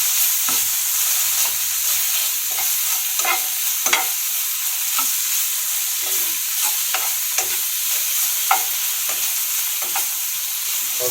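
Ginger garlic paste fries in a pan, a steady soft sizzle broken by repeated scraping and clicking strokes of a spoon as it is stirred.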